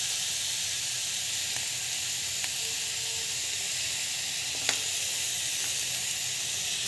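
Semolina sautéed in a pan with asafoetida and rock salt gives a steady, soft sizzling hiss close by, with a few faint ticks of a spoon scattered through and no talking.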